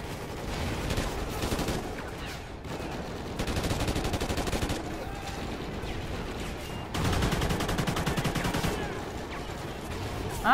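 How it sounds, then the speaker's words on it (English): Sustained bursts of automatic gunfire in the shooter game Call of Duty: Ghosts, loud rapid volleys with brief gaps between them and a heavier barrage toward the end. "I like the gun sound."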